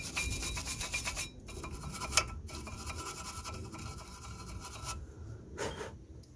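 Brisk scrubbing and rasping against the rusty, dirty brake parts of a Vauxhall Opel Astra, a close, continuous gritty rubbing with short pauses and one sharp knock.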